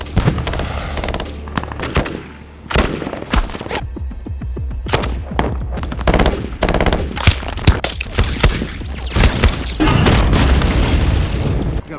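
Intense gunfire from an action movie battle scene, with heavy booms, rapid automatic bursts and scattered single shots, loud and close, building to a dense roar near the end.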